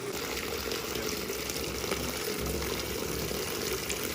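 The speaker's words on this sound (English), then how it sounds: "We're going to turn that hot faucet on wide open, and we're going to run that till it's finished." Hot water gushes from a wide-open household faucet in a steady, continuous hiss and splash, running alone at moderate level during a home drinking-water pipe flush.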